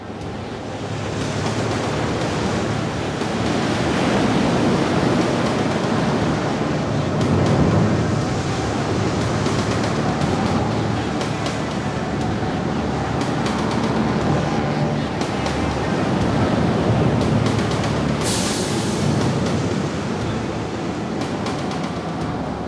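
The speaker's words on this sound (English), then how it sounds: "the wind in the Shetland Islands has a fearsome ally, the waves" Heavy sea waves crashing against cliffs in the Shetland Islands in storm-force wind, a continuous loud surging roar with swelling surges and gusty wind buffeting the microphone.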